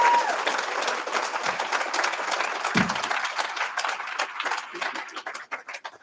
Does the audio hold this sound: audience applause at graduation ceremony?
yes